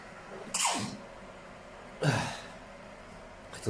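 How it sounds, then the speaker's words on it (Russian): A man sneezes twice at close range at home during a meal, each sneeze a loud, sharp burst falling away with a breathy tail, about a second and a half apart, with another starting at the end. "И чихнул."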